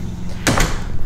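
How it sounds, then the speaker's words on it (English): A door is opened or closed nearby with a single solid thud-and-rattle midway, loud against a steady room hum, followed by a brief softer bump. "I walked in this door right here"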